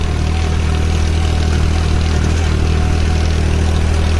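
A tractor engine gives a loud, steady roar with a deep continuous rumble, held at high revs without pause, very close and with no voices.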